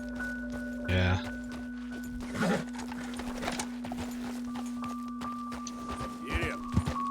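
A horse in the Red Dead Redemption 2 video game snorts and whinnies near the start, followed by scattered hoof clops and rustling over a steady droning in-game tone.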